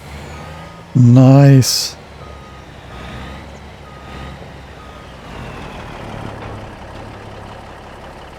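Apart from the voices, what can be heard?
Mack truck engine and reversing beeps in Farming Simulator 25 video game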